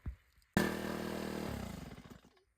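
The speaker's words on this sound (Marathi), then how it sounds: "आता मी कटर मारतोय" A brush cutter's small engine abruptly starts whining loudly, holds a steady buzzing drone, then drops in pitch and fades as it winds down.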